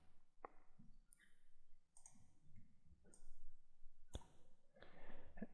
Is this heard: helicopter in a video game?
no